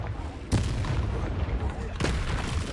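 A Confringo explosion spell cast in the video game Hogwarts Legacy, two deep booming blasts about a second and a half apart over a low rumbling battle background.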